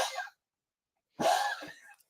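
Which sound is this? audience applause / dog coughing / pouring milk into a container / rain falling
dog coughing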